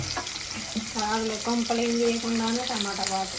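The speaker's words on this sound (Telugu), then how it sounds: "ఇప్పుడు ఉల్లిపాయలు టమాటాలు కూడా వేసేస్తుంది" Onions and tomatoes fry in a pan with a steady close sizzle while a voice speaks over it.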